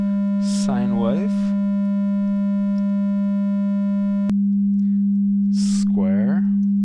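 A pure, steady synthesizer sine wave tone hums continuously at a low-mid pitch, with brief spoken words over it at the start and end.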